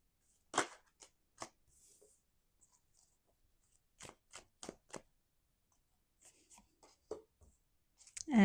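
Tarot cards are shuffled and drawn in a quiet room, with sharp isolated snaps and brisk riffling bursts separated by silences, ending with a short, louder flutter of cards.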